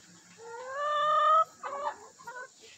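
Hens in a backyard chicken run give a drawn-out, rising squawk followed by a few shorter clucks, close and clear over quiet surroundings.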